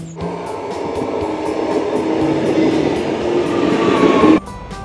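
A passenger train carries riders toward Den Helder in the Netherlands, its steady rumble and rail noise holding close and loud for about four seconds before cutting off abruptly near the end.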